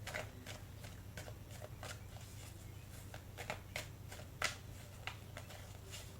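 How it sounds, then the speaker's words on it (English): Tarot cards are shuffled by hand in a rapid, uneven series of crisp riffling flicks and taps, heard close and fairly soft with no talk over it. "Let me shuffle."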